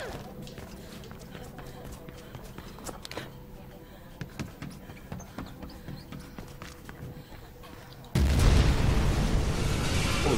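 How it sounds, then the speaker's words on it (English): A big explosion in the video game Mirror's Edge Catalyst erupts near the end as a sudden loud, sustained blast, after a stretch of quieter in-game movement and footstep sounds. "big explosion over here."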